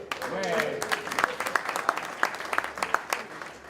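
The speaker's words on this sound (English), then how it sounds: "A round of applause for Lancaster County." An audience applauds for Lancaster County, with a voice and a faint tone at the start, then sparse, distinct claps spaced out and tapering off as the round winds down.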